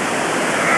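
Rushing river water with a broad, steady splash as driftwood is tossed in near a riverbank cabin, loud and continuous throughout with no clear separate impact.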